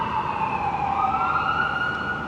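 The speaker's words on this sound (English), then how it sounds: "It's quite common to hear sirens, obviously, as you walk through this part of town" An emergency vehicle siren wails steadily with slowly gliding pitch, moderately distant, over constant city traffic rumble on a street lined with several hospitals.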